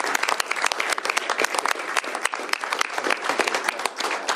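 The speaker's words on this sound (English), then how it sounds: "Round of applause, everybody." A crowd at a governor's bill-signing ceremony applauds, giving a dense, continuous patter of many hands clapping close by for several seconds without letting up.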